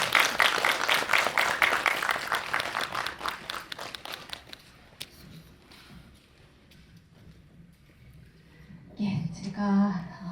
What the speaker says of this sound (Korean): 여러분들 큰 박수 한번 부탁드립니다.